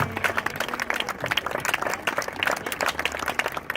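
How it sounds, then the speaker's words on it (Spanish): A church congregation applauds during a service, with dense, steady clapping from many hands filling the space at close range for the whole stretch. "Den una ofrenda de palmas a nuestro Señor."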